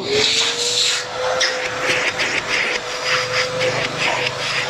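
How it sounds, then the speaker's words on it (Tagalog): A Pujima vacuum cleaner runs steadily, close and loud, with a whining motor tone under a rough, rattling hiss of suction and no talking. "Testingin po natin tong vacuum po natin."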